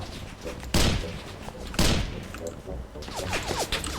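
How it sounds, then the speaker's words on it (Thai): Gunfire in the Roblox D-Day landing game: two heavy bursts of shots crack out close and loud, separated by about a second, amid a steady battle din, with people talking over it. "มันยิงกดเราไว้ฮะ"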